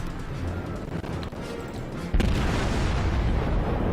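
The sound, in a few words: battleship firing a broadside in World of Warships video game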